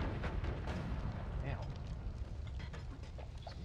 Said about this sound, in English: Mass explosions everywhere.